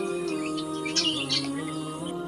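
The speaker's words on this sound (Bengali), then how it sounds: "বিভিন্ন রকমের পাখি এখানে, টিয়া পাখি সব রকমের পাখি আছে" Birds chirp in a mixed aviary of parrots and other species, with brief bright tweets rising over a steady background hum and drone, fairly faint and without talk.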